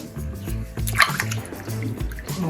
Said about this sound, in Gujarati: તો હવે તેને આપણે સારી રીતના ચોખ્ખા પાણીમાં આ રીતના એકદમ ઘસીને વોશ કરી લઈશું